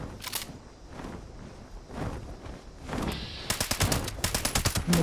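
A Furious combat rifle with a faster fire rate fires in rapid bursts in Fallout 76, with quick repeated shots near the start and a dense fast burst at the end, among game ambience and faint footsteps.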